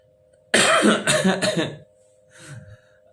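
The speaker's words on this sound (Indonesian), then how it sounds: "batuk." A few sharp coughs burst out close to the microphone in quick succession, then a softer throat-clearing sound follows after a short pause.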